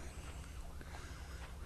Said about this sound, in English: There are sirens in the background as more vehicles are coming